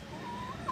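A chicken hen gives a brief, close cluck with a slightly rising tone, heard alone in a quiet farm setting.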